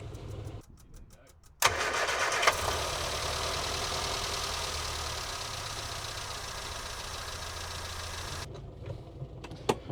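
An old Austin A40 Farina engine fires up with a sudden catch and settles into a steady, rough-edged idle while warming up, close and loud, cutting off near the end.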